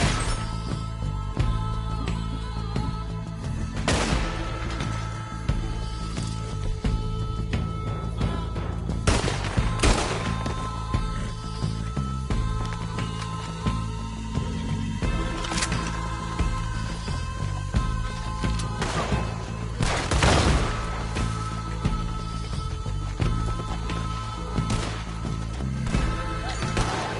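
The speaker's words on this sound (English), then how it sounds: "I'll riddle you with bullets!" Gunfire in Red Dead Redemption 2, sharp isolated shots spaced several seconds apart over music and ambient game sound.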